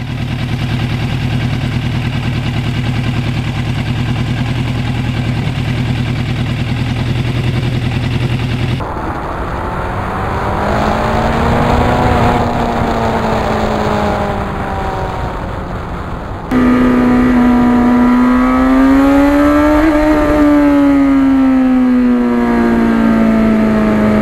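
The engine of a restored 1991 Yamaha FZR1000 motorcycle hums, then revs up and down in rising and falling pitch sweeps, close and loud, across several separate takes.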